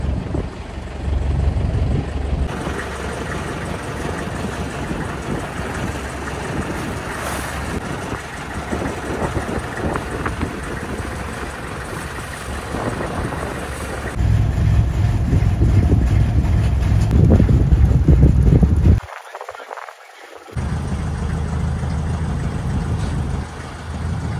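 A motor boat at Kumarakom drones steadily throughout, its engine rumble mixed with wind noise, growing louder midway, briefly dropping out, then resuming at a constant level.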